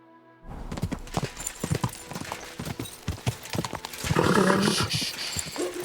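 Bilani the horse in the video game Kingdom Come Deliverance 2, hooves clip-clopping in a steady close rhythm, then a snort or whinny near the end, with no speech.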